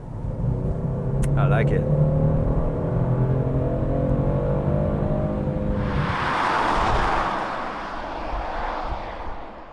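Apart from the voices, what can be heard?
Genesis G70 twin-turbo V6 car accelerating and revving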